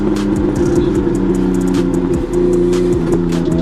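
Nissan S13 with a swapped RB engine revving hard and steadily, a loud, close engine drone with rising and falling pitch, one brief dip near the middle, and no talk.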